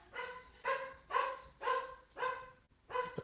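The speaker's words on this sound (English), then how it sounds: "There's somebody at the door, so the dog's barking." A dog indoors barks at someone at the door: five sharp, evenly spaced barks in a steady rhythm, each one clear and moderately loud, with no speech.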